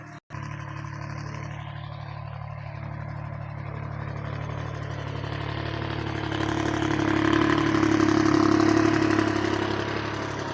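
A farm tractor engine runs steadily at a low, throbbing idle, nearby and alone with no talk, its roar swelling louder toward the end before easing slightly.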